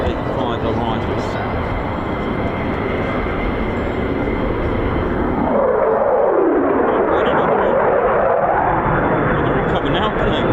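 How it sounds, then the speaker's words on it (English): Two F-35 fighter jets arriving at RAF Lakenheath make a loud, continuous roar that swells with a sweeping tone midway, heard close and steady throughout with voices talking over it. "So it's our first two F-35 arrivals."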